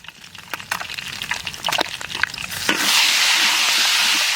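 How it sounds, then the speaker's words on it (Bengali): Bay leaf and dried red chillies hit hot oil over dal as a tempering, bursting into a loud, steady sizzle after a few sharp crackles and stirring clatters; no one talks. "ডালে ফোড়ন দেবো তেজপাতা শুকনো লঙ্কা"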